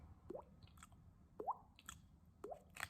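A voice mimics water with mouth noises: three wet, squishy plopping drips spaced about a second apart, close and fairly quiet, with no talking.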